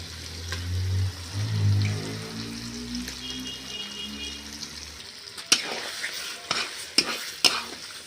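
Chopped goat brain sizzles in a frying pan with chili, cumin and coriander powder, a low bubbling fry with scraping stirs and sharp clicks of the spoon against the pan toward the end.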